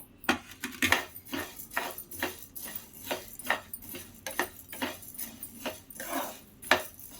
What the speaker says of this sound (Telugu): ఇలాచి, జీలకర్ర, చెక్క ఇవి వేసుకోవాలి, వేయించుకుందాం.